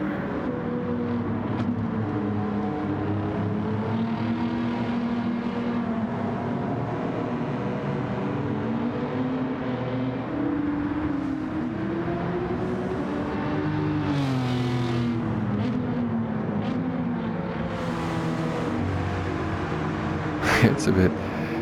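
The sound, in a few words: race car engine in video game Gran Turismo 7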